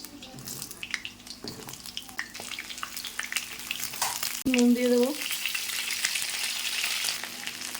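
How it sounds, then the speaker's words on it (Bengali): Pieces of pointed gourd fry steadily in hot oil in a wok, a constant close sizzle with light stirring, a brief running-water or tonal whine midway, and someone speaking briefly over the cooking. "তেল গরম হয়ে গেছে, এর মধ্যে আমি দিয়ে দেবো পটলগুলো।"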